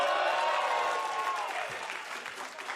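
An esports arena crowd at a League of Legends LCS playoff match applauds and cheers in a dense, sustained wash of clapping that slowly tapers, with no talk over it.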